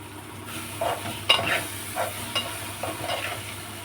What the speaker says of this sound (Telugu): ఇప్పుడు 2 నిమిషాలు మూత పెట్టుకుని ఉల్లిపాయ వేగాలి